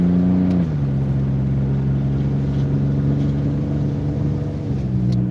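A car engine hums steadily close by and rises slightly in pitch early on as the car accelerates out into a traffic lane, then holds an even drone.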